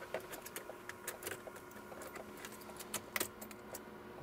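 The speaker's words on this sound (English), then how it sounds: "So I'm gonna go ahead and put the key in the ignition." A car key slides into the ignition of a Ford Transit with faint metallic clicks and jangles, several small taps in quick succession, quiet and close.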